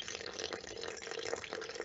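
Water is poured onto ARDEX FL grout in a shower installation and beads up on the hydrophobic surface, giving a steady, faint, close splashing trickle with no voices.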